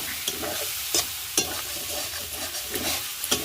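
Turmeric-and-sugar masala sautés in a pan, a steady close sizzle broken by sharp scraping strokes of a spatula at irregular intervals, with no voices.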